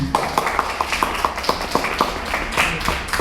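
An audience at a one-day seminar claps in a steady, even rhythm, producing crisp, regularly spaced claps over faint background noise.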